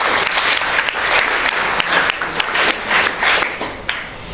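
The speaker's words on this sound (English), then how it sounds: "Can we have a huge round of applause for her?" Enthusiastic applause from an audience, steady clapping with a few sharper bursts, fading slightly toward the end.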